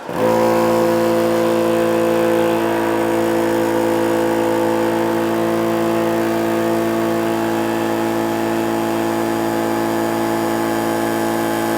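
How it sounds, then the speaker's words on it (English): A Benjamin recharge compressor starts abruptly and runs with a loud, steady mechanical hum and whir carrying strong sustained tones, continuous and close for the whole stretch. "And now let's turn on the compressor."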